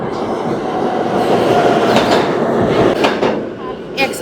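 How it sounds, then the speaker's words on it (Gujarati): A train pulls into a busy station platform, its wheels clattering and squealing in a loud, continuous roar, with sharp metallic clicks and screeches near the end as it slows. "હવે ટ્રેન આવી. બે જઈએ ઈમાં જ."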